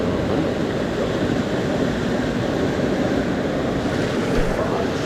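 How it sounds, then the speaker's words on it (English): Steady roaring rush of a waterfall at a trout stream, a constant broadband wash of falling water heard up close, with no voices. "Waterfall."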